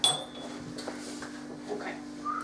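Metal cutlery clinks and rattles faintly as a knife is fetched in a kitchen while making a microwave mug pizza, with a steady background hum underneath.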